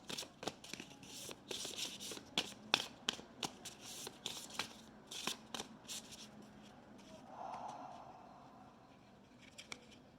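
Oracle cards are shuffled by hand in a quiet room, giving a rapid series of soft, crisp riffling snaps that thin out toward the end.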